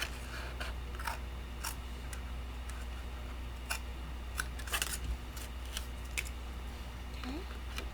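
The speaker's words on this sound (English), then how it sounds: "Okay, so I'm just going to cut that right there" Scissors snipping paper for a large double-fold folio, a series of faint, sharp cutting clicks spaced irregularly over a quiet room hum.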